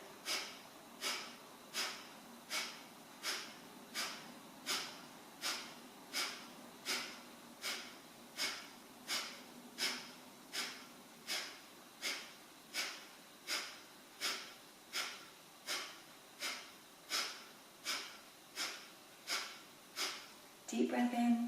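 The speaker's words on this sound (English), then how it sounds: "off we go with breath of fire" Breath of fire during a children's yoga session: rapid, even, forceful exhales through the nose, about one per second, repeated steadily and close up with no talking.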